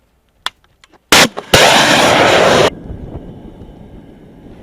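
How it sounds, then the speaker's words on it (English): An FGM-148 Javelin anti-tank missile launches outdoors: a few faint clicks, then a sharp loud report and a sustained roaring blast lasting over a second, cutting off into a low lingering rumble. "Let's see and hear the Javelin in action."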